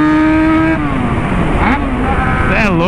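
A modified Yamaha XJ motorcycle engine revs close by, a loud, continuous roar that climbs and dips in pitch with a couple of quick blips near the end.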